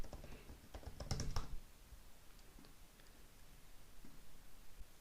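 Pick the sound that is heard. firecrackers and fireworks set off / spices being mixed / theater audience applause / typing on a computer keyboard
typing on a computer keyboard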